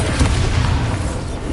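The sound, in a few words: explosion from the Bombarda spell in a Harry Potter video game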